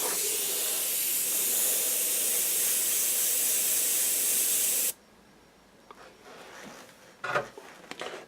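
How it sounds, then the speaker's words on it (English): Spray paint hissing through a stencil onto a plastic card, a loud steady aerosol burst lasting about five seconds before cutting off abruptly, followed by quiet handling noises and small rustles. "if I just use it on this plastic card here, and we spray the design"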